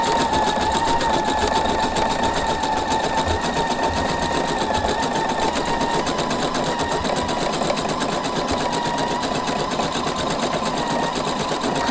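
A sewing and embroidery machine couches yarn with embroidery stitching, its steady rapid mechanical whirring and needle chatter running loud and continuous throughout, close by with no voices.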